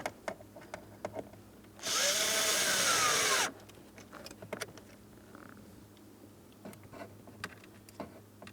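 A power tool whirs in one steady burst of about a second and a half, driving a mounting bolt into a plastic box during a blend door actuator replacement on a 2004-2008 Pontiac Grand Prix, with scattered clicks and handling noises around it.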